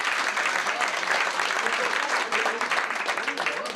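Audience applause fills a French tavern evening show, a dense, steady wash of clapping hands that stays loud and close for the whole stretch with no break.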